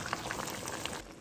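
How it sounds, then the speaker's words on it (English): Pot liquor poured over a pan of collard greens makes a steady, close bubbling and splashing wash of liquid that fades slightly near the end, with no voices. "we're just gonna go ahead and pour that right over the top"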